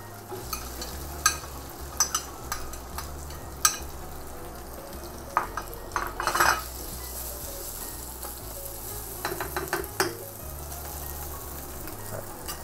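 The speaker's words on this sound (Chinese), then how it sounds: "煎香啲冬菇" Shiitake mushrooms fry in hot oil in a wok, giving a steady close sizzle throughout, with scattered sharp clinks of a spatula against the metal, for a vegetarian spring roll filling.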